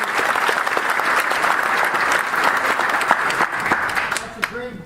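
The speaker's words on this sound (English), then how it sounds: "Please hold the applause to the end." Audience applause at a talk about a child treated with cannabis for seizures: a steady, loud wash of many clapping hands that fades toward the end as a voice begins to speak.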